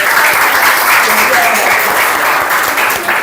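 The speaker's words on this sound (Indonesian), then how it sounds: "tepuk tangan buat kalian semua" A class of students claps together in sustained, dense applause that stays loud and steady throughout, close to the listener, with a few voices mixed in.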